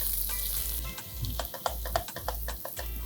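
Chopped onions fry in sunflower oil in a pot for red rice and soya pulao, giving a steady close sizzle with a few light scraping stirs and clicks, no voices.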